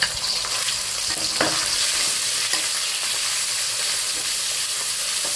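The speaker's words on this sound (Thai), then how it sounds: "ผัดหมูก่อนนะคะ" Pork stir-frying in a hot pan as the first step of a stir-fried napa cabbage dish gives a steady, loud sizzle with a few sharp spatula scrapes, and no talking.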